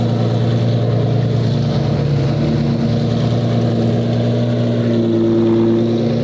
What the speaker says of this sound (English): First, the idle test.